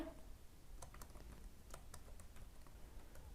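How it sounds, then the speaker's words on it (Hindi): Quiet, steady typing on a computer keyboard while HTML text is entered, with soft irregular key clicks and no voices. "जो टेक्स्ट था उसको टाइप कर देंगे"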